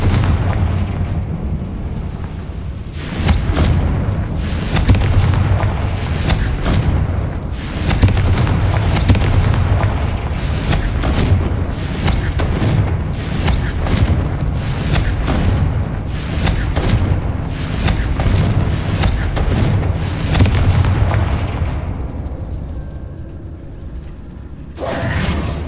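Explosive blasts from the Confringo spell in a Harry Potter-style wizarding game, set in an old closed mine, come as a long rapid series of loud, evenly spaced booms over a continuous rumbling roar.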